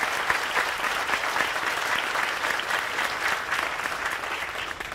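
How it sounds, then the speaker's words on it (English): Sustained audience applause for graduates at a Buckley Country Day School graduation ceremony, steady dense clapping from a large crowd filling the whole stretch with no break. "Can we give them another big round of applause to all these fine young men and women here?"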